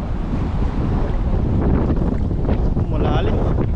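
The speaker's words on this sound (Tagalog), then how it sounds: "Malakas ang hangin." Strong wind buffets a fishing boat at sea, a loud, steady roar of gusts and microphone wind noise mixed with sloshing water, with a brief faint voice near the end.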